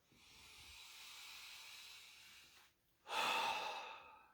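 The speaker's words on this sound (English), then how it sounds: "Deep breath." A slow, deep breath during a guided meditation, a long soft inhale, a brief pause, then a louder, breathy exhale, close and quiet.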